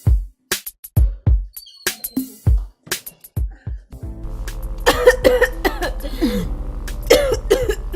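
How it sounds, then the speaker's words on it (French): A series of sharp, dry coughs repeats in quick bursts, close and loud, then continues more thickly over a low steady hum. "Et qu'est-ce que tu prends pour la toux?"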